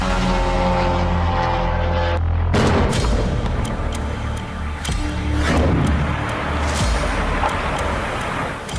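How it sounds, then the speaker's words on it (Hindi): A tonal hum, a drone, cuts off into a sudden loud boom from a drone strike in Rostov, followed by rumbling aftermath and scattered cracks echoing in the distance. "आसमान में ड्रोन की आवाज के बीच रोस्तोव में यह जोरदार धमाका हुआ।"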